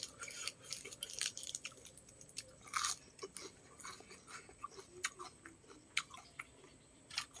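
Crispy rice is chewed close to the microphone in repeated, irregular crunchy bites with soft mouth sounds and quiet gaps between them.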